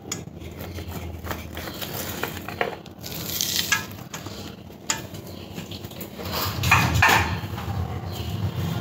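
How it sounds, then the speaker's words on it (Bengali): Sliced onions fry in hot oil for chicken biryani, giving a steady crackling sizzle that swells at times, with scrapes and clatters of stirring in the pan. "পেঁয়াজটা দিয়ে দিলাম।"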